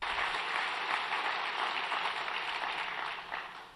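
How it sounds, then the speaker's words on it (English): Applause from a political event crowd, a dense, even wash of clapping that holds steady at moderate volume and tapers near the end, with no voices over it. "Listen to the applause."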